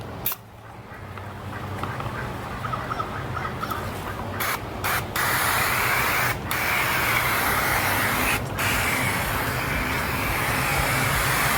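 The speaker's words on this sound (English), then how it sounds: "go back and just rinse it off with the hose" Steady hissing spray of water from a garden hose on fog mode, rinsing patio pool LED lights, starting abruptly after a brief quiet moment and continuing loud and constant, with a few short breaks.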